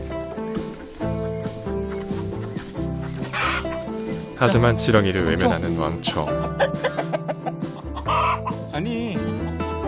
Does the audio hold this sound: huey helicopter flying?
no